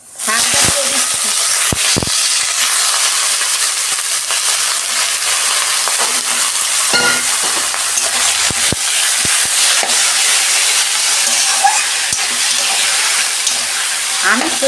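Leafy greens tossed into a hot pan set off a strong, continuous hissing sizzle with scattered crackles and stirring knocks throughout, lasting the whole stretch.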